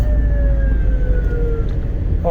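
An ambulance siren sweeps past with a slowly falling wail, loud and steady over heavy traffic and street rumble, its pitch dropping as it goes by, while a brief chirp cuts in near the end.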